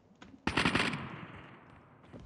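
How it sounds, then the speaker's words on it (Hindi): A sudden burst of rapid automatic gunfire in a Call of Duty match, sharp close shots followed by a fading echoing tail, with no voices over it. "कौन गोली चला रहा है"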